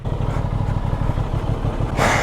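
A newly acquired motorcycle runs with a steady, throbbing engine pulse up close, ending in a burst of louder rushing noise.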